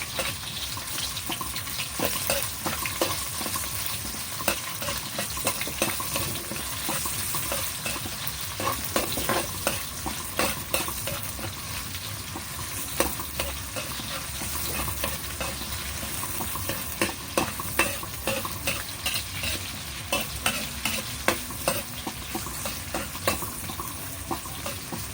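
Garlic and onions sautéing in a pan, a continuous bright sizzle crowded with rapid scraping and clicking from stirring utensils, close and busy throughout with no voices.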